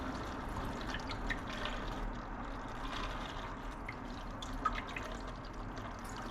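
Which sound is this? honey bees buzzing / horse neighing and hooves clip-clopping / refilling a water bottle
refilling a water bottle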